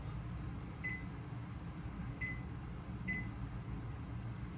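A microwave oven being set to cook: three short electronic keypad beeps at spaced intervals over a steady low appliance hum, with no talking.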